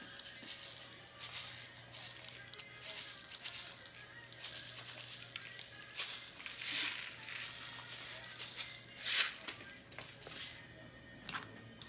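A small brush tool rubs a rhinestone transfer onto a shirt in a circular motion, giving soft continuous scratchy swishes with a few louder strokes over a faint steady hum, close up and with no talking.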